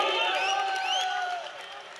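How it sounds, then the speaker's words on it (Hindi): Crowd at a live poetry event in Varanasi applauding and cheering for poet Malvika Hariom, a dense, sustained roar of clapping with whoops that fades slightly toward the end. "एक बार जोरदार तालियां हो मालविका हरिओम जी के लिए"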